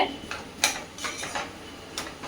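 Potatoes are stirred into a spice mix in a pan, producing a few scattered scrapes and light metallic clinks of a utensil against the pan, close and fairly quiet.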